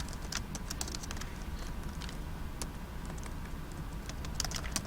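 Rapid continuous typing on a computer keyboard, a dense patter of close key clicks over a steady background hum.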